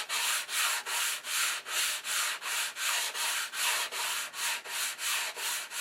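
Steady rhythmic sanding strokes on a P-47 Thunderbolt scale model part, a close, dry, even rubbing repeated about twice a second with no talking.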